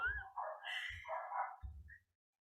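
Dogs next door barking, a few short barks at a moderate distance with a whimpering, yipping quality, heard alone without talk.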